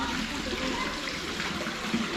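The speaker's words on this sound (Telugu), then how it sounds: "కొండల్లోంచి వచ్చే వాటర్, మన స్ప్రింగ్ వాటర్, ఇది ఫ్రెష్ వాటర్." Fresh spring water flows down from the hills in Kashmir, making a steady, close rushing and splashing that continues without a break, with no voices.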